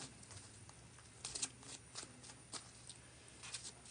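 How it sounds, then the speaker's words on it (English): Soft, quiet riffling and flicking of playing cards being shuffled, with light papery bursts and hand handling, no voices. "I'm going to go ahead and shuffle the next deck"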